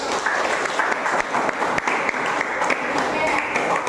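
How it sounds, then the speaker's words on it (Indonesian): A class audience claps after a group presentation, a steady round of applause with a few louder individual claps standing out, held at even strength. "tepuk tangan dulu"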